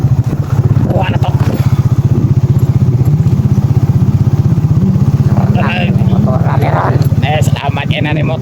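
A motorcycle being ridden on a rural mountain trip, its engine putting out a loud, steady, rapid thumping drone close by for the whole stretch, with people talking over it near the end.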